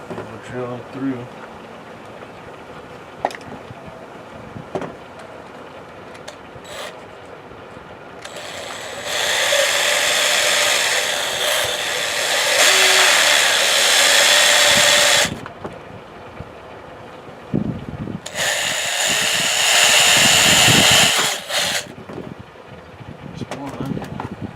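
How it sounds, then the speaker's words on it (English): A power drill bores holes through a plastic gear caddy in two loud bursts of high whirring, each lasting several seconds. Quiet handling sounds fill the gaps between them. "Drill them through."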